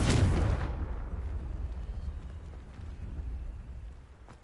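A Confringo fire spell from the Hogwarts Legacy video game lands as a loud, sharp explosive burst at the start, then fades into a rumbling decay over a few seconds, with no talking.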